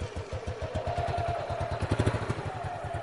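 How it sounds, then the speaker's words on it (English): A motorcycle engine turns over and settles into a close, lumpy idle with a regular throbbing pulse and some mechanical clatter throughout. "Go ahead and start your bike."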